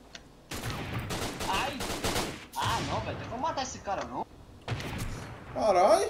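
Bursts of gunfire in the shooter game Line of Sight, several sharp volleys in irregular clusters with brief pauses between them, and a voice talking excitedly over the shots.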